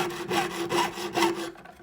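Piercing saw cutting through a copper snowflake, giving rhythmic rasping strokes, about four back-and-forth passes, close and fairly loud, then stopping.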